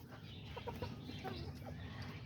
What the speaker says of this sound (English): There's that one little red rooster.